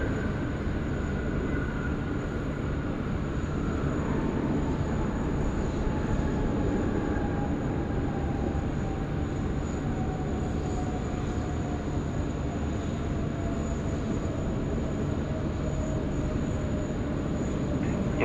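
A Boeing 777 jet on the runway at Sydney Airport gives a steady, loud engine roar over the full stretch, with a slowly falling whine drifting through it.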